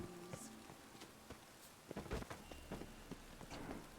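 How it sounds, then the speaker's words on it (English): Rain falls in The Witcher 3, a quiet steady patter with scattered louder drips and taps landing on surfaces, heard alone and at low level. "It just rains and rains."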